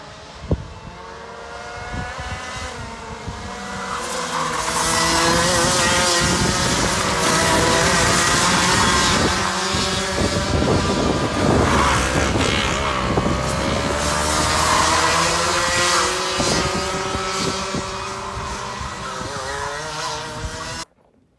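Race cars at a motorsport event, engines roaring loud and continuous as they pass with rising and falling pitch, swelling to a sustained peak midway and easing toward the end, with no talk.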